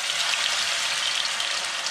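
Syrniki fry in oil in a hot pan, giving a steady, dense crackling sizzle that stays even and fairly close throughout with no talk.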